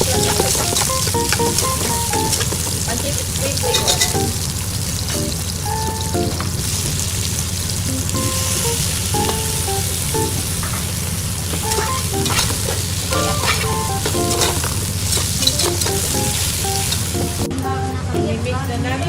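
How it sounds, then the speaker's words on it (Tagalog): Shrimp pancit gisado stir-frying with Datu Puti sauce: a steady, loud sizzle and crackle runs without pause through the whole stretch, with stirring clatter over the frying noise. "I-mix na natin ang dato puti sauce para sa ating pancit gisado with shrimp."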